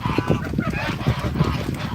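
Farm geese honk repeatedly in a noisy flock, overlapping calls rising close by in quick, irregular bursts over a busy background.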